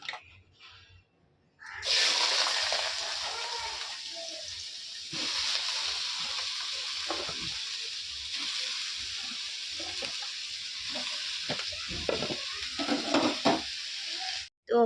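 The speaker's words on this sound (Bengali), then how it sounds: "তো তখন আমি আলুটা ভেজে নিই" Potatoes fry in a pan in a home kitchen, giving a steady, loud, close sizzle with occasional stirring scrapes from about two seconds on. A short quiet stretch comes first, and no one speaks.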